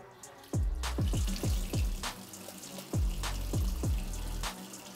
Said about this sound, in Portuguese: Se eu ligar a torneira,